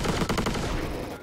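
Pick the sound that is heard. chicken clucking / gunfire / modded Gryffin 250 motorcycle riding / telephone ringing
gunfire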